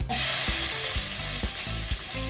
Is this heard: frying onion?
yes